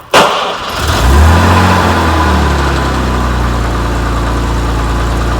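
A cold 1970 Jaguar XKE Roadster engine catches with a sharp start, briefly revs, then settles into a smooth, steady, loud idle close by, with no talking.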